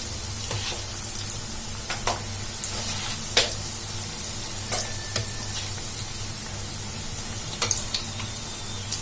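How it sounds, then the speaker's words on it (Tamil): Bread snack deep-frying in hot oil, with a steady sizzle under sharp scraping clicks as the pieces are turned over to fry the other side, close and moderately loud. "நம்ம இன்னொரு சைடும் இதே மாதிரி திருப்பி விட்டு நல்லா ஃப்ரை பண்ணிக்கலாம்."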